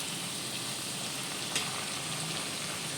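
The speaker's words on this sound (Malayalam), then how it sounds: "നമ്മൾ നേരത്തെ അരിഞ്ഞ് വെച്ച പച്ചമുളക് ചേർത്ത് കൊടുക്കുക. അതും അത്യാവശ്യം ഒന്ന് വഴറ്റി" Chopped green chillies sautéing in oil in a pan for Kerala-style ginger pickle, giving a steady, even sizzle throughout with one brief stirring scrape midway.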